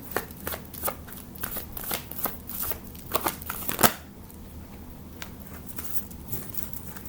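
Tarot cards are shuffled and drawn close by, a quiet rapid patter of riffling card edges with sharper snaps, one louder flick, then lighter sliding at the end, with no talking.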